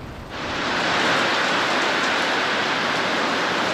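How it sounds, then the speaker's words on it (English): Heavy rain pours steadily on an outdoor road ride in Kiama, Australia, a dense continuous hiss that swells in after a brief quieter start and holds loud and unbroken to the end, with no voices. "It's raining heavier."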